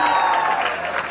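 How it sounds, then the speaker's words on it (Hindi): Crowd at the Rajasthan Film Festival 2018 award show applauding a guest of honor, a dense, loud burst of clapping filling the hall with a faint tone beneath. "उनके लिए जोरदार तालियां हो जाए"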